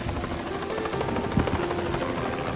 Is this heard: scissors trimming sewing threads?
no